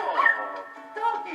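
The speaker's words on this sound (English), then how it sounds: "Doggy." A cartoonish dog in the Nintendo Switch game Luigi's Mansion 3 gives short whimpering yips and a bark-like call, close and clear, in two brief bursts.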